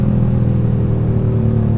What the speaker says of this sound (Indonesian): Knalpot saya berisik banget dah.